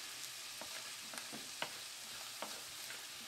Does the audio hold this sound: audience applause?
no